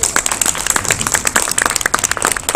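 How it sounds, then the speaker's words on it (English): An audience claps for volunteers at a convention hypnosis show, with loose, uneven hand claps and scattered sharp cracks over a brief stretch, fairly close. "Let's have a round of applause for these fantastic people."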